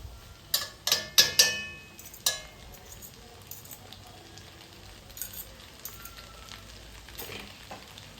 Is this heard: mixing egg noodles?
yes